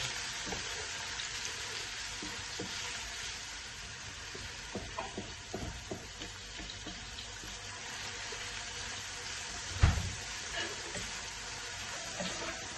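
Onions frying in a pan toward light brown, a continuous soft sizzle with occasional stirring clicks and one louder knock, heard close without talk.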